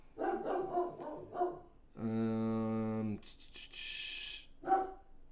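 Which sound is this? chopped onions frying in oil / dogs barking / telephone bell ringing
dogs barking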